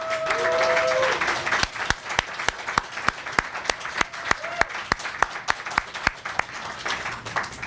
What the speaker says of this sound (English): Let's have a round of applause for everyone